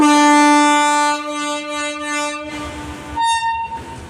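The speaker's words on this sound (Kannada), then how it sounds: "ಟ್ರೈನ್ ನೋಡಿ ತೋರಿಸ್ತೀನಿ" A train horn blares loud and close in a long sustained blast, fades into rumbling, then sounds again in a shorter, higher honk.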